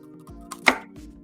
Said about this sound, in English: Cut it in half.